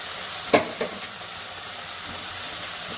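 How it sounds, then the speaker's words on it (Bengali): Masala spice paste with a little turmeric sizzles in a pan for a katla fish head and mung dal dish, a steady soft frying hiss broken by a few sharp scrapes and taps of a spoon stirring, with no one talking. "এবার ভালো করে কষিয়ে দেবো মশলাটা"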